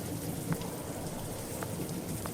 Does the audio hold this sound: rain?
yes